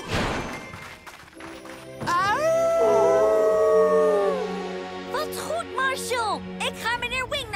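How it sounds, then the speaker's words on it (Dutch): A cartoon wolf lets out a long, loud, wavering howl that swells and then tails off, with scattered yips and voice-like bits after it and faint background music. "Oh nee, dat klinkt als nog een wolf."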